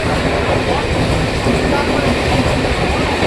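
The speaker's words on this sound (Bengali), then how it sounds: "স্টেশনে আসলাম আর ট্রেন দেখতে পেলাম" A train at a railway station produces a loud, continuous rumble and clatter that fills the whole stretch at close range.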